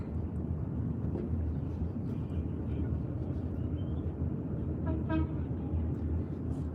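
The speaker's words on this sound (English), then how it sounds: "That's him honking at me." A car horn behind a car driving in Henderson, Nevada gives a short honk over the steady road rumble and wind noise inside the moving vehicle.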